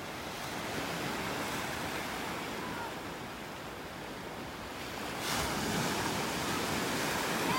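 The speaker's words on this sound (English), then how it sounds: "I'm just gonna let you listen to the sounds of the waves here for a minute." Ocean surf washes steadily onto the beach at Delnor-Wiggins in North Naples, Florida, a broad continuous rush that swells louder near the end, heard alone without talk.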